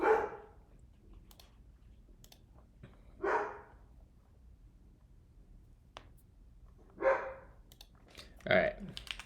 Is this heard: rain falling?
no